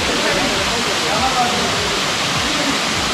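Ermayi Falls near Ujire roars as a steady, loud waterfall wash, a dense continuous rush close by, with a voice faintly audible beneath the water.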